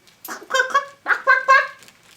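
A person's voice imitates an upset chicken with two bursts of agitated, squawking clucks, loud and close, separated by a short pause.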